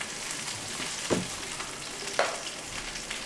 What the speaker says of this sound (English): Smelling the garlic, smelling potatoes frying in butter.